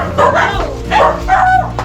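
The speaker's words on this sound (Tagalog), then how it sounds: "Kaya yung aso, maingay." A dog gives three loud, close barks at a home, spaced about half a second apart, with a yelping edge.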